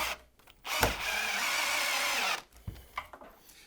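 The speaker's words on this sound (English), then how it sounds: "Go ahead and start popping some screws down." A power drill drives screws into a wooden rustic dining table top, one sustained whirring run of nearly two seconds with short clicks and handling knocks before and after, close and loud.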